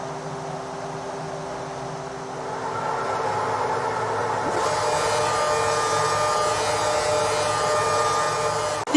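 Racing car engines in the F1 2013 video game roar up together at the start of the Belgian Grand Prix, a dense, steady mechanical drone that swells in pitch and loudness midway, with no talk over it.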